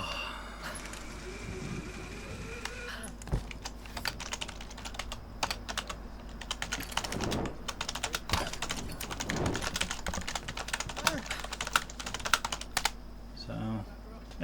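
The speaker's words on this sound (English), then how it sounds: "I'm typing away as well." Computer keyboard typing with rapid, irregular clicks running across the whole stretch, fairly close, mixed with faint background game sound and the low hum of a recording setup.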